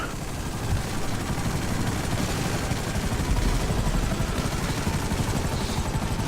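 A low-flying airplane engine in a video game drones steadily and loudly, a dense continuous rumble with no talking over it.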